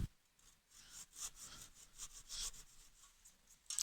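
A hand saw cuts wood for a haunched mortise and tenon joint in steady, close rasping strokes, about two per second, soft and alone.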